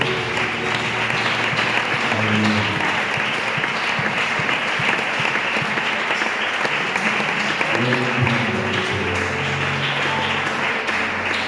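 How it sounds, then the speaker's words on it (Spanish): Church congregation applauding at a Spanish-language worship service, steady sustained clapping throughout with voices and a spoken exclamation over it, close and full. "Un aplauso para Dios, por favor."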